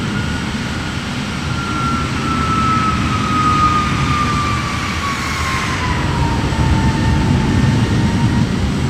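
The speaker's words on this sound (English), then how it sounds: "And somebody just took off right behind." In Microsoft Flight Simulator, a jet engine whine rises and slowly glides downward as an aircraft takes off behind, set over a steady loud airport and cockpit drone.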